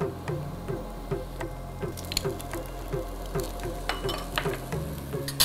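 Red and yellow bell peppers fry and get stirred in a pan, with a steady low sizzle broken by repeated soft scraping and stirring taps, close up and without talk.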